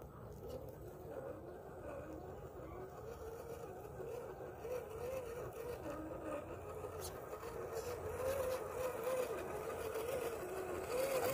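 RC4WD trail truck drive motor with a 1060 ESC running steadily, a continuous faint whine and drone with slight pitch wavering throughout, no clear pauses.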